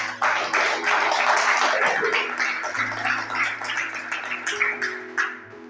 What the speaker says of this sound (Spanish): Dale otro aplauso al Señor, aleluya